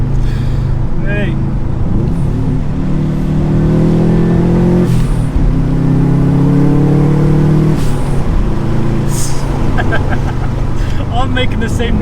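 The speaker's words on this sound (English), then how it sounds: "I'm making the same noise in the dump valve." Subaru Impreza engine drones loudly and revs up from inside the car, with a brief whooshing dump-valve release between pulls and a voice talking over the noise.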